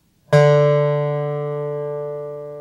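A single plucked note on new guitar strings rings out bright and full, then slowly decays over a couple of seconds, clear and alone.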